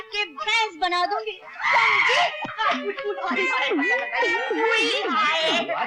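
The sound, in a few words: woman screaming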